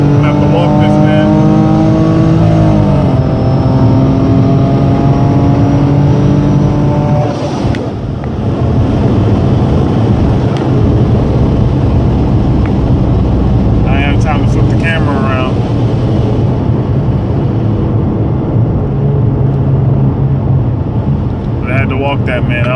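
A RIPP supercharged Dodge Charger roars at full throttle while racing a V6 car, with loud rising engine pitch through gear changes and a continuous heavy drone. Voices talk over the engine noise.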